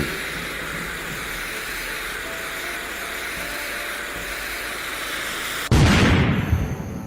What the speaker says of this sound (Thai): เสียงระเบิดดังกึกก้อง